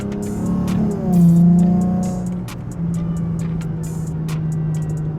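A Lexus IS 350 exhaust growls as the engine revs rise and fall, with quick rev-matching throttle blips around a downshift, heard from inside the car.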